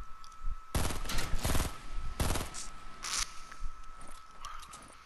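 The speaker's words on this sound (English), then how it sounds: "You really shooting the shotgun over there?" Shotgun blasts in a first-person shooter match, several heavy, broad bursts in quick pairs with a sharper crack later, loud and close over steady game background noise.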